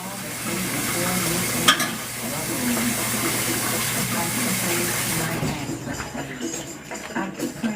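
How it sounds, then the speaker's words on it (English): Creamy basil tomato soup stirred in a pot: a steady close hiss and bubbling sizzle runs throughout, with a brief clatter partway through and a voice speaking under it. "So I'm gonna stir that in first."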